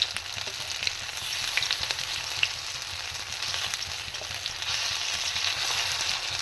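Food frying in a pan to golden brown makes a steady close sizzle with scattered small pops and crackles throughout, unbroken by speech.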